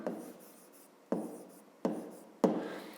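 Pen strokes scratch across paper while a fifth-grade math exercise is written out: a steady soft scratching broken by four sharp onsets as new strokes begin, close and quiet, with no voices.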